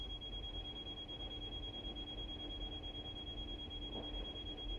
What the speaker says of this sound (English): That's why the alarm system went off again